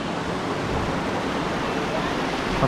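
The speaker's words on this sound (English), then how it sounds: "A river." River water rushing at a hidden waterfall in St. Vincent, a dense, constant broadband roar that stays steady and close throughout, with no clear speech over it.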